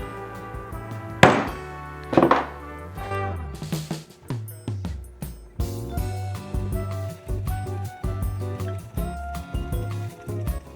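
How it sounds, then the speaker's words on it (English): A center punch struck into scrap wood with a hammer gives sharp thunking smacks, two loud hits near the start followed by a run of lighter, rhythmic taps, close up with no talk. "My center punch up right in the middle and give it a quick little smack"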